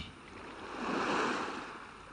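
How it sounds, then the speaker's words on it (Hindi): Gentle waves washing against a seashore, a soft continuous rush of water that swells to a fuller surge midway and then eases back, with no talking. "अब सूरज की नर्म धूप के अलावा आप सागर तट से टकराती लहरों के हल्के हल्के थपेड़ों को भी ध्यान से सुनने की कोशिश कीजिए"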